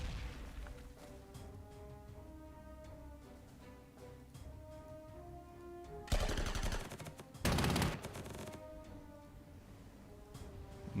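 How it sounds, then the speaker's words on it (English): Artillery bombardment in the Panzer Corps 2 wargame, set at Dunkirk: two loud, dense bursts of booming gunfire break over a steady background of game music and ambience. "We're just going to hit these guys hard with artillery"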